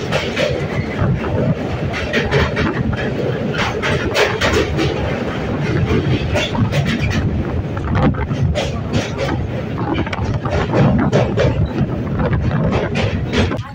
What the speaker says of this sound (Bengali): এখানেই দেখেন লোকাল ট্রেনের ক্রসিং।